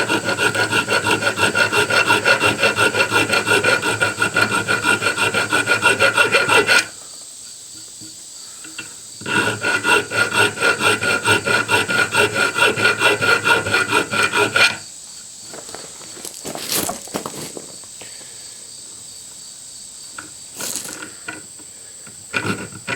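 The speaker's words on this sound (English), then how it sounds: "I'll come in and clean that up with a finer file" A hand file rasps across a hard steel axe head from a belt axe kit in rapid rhythmic strokes, close and loud, falling quieter after a pause, then giving way to sparse scrapes and a few knocks.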